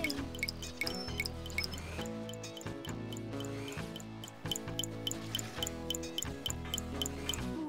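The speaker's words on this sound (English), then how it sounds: "Water's still leaking." Rapid, regular dripping taps repeat over a steady tonal background, a water leak plinking throughout in the PC game Bob the Builder: Can We Fix It?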